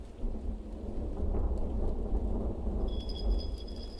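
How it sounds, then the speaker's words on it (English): Deep thunder rolls over a small desert town in Southern California, a low continuous rumble that swells and fades beneath a steady patter of rain. "Thunder rolls over a small desert town in Southern California."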